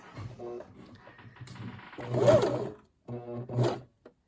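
A sewing machine stitching darts, running in short close bursts that start and stop with pauses between them, with no talk over the motor.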